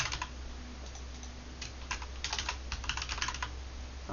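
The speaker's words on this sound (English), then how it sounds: "I'm going to type in fried" Computer keyboard typing a short phrase in PowerPoint, a quiet close run of clicky keystrokes over a low room hum, with no talking.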